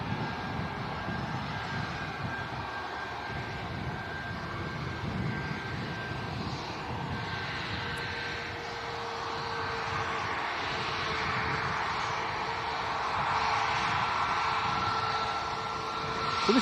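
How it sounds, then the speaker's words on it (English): Ryanair passenger airplane at Leeds Bradford Airport, a steady distant engine roar with a faint whine that swells slightly toward the end, with no voices. "So this is Ryanair to Paris."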